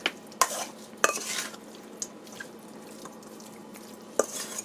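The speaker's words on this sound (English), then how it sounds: "So just give that a good mix." Chicken necks being stirred in a bowl with a ginger and curry leaf marinade: wet squelching mixing with several sharp spoon clicks against the bowl, close and quiet, with no talking.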